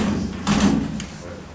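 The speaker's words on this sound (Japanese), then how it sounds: "社長、最初はドアなかなか開かないっていうのからいきましょう。" A door is pulled and rattled but will not open, giving a short thudding jolt in the middle of a quiet, close indoor room.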